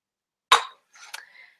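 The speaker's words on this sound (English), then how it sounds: "I'm going to move my frying pan out of the way." A frying pan is shifted on a kitchen stove, giving one sharp metallic clank followed by a lighter scrape and faint rattle, close and brief.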